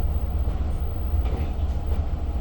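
A Long Island Rail Road train heading for Jamaica rolls along with a steady low rumble and faint clatter, heard from inside at moderate level without talk.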